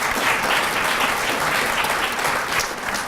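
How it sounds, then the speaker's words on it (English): A big round of applause at an evening tech awards presentation honoring recognized companies, with loud, sustained clapping from a large crowd. "Maybe another big round of applause for the companies we're recognizing tonight."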